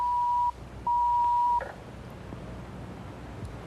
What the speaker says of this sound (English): It's the Jan Brady phone.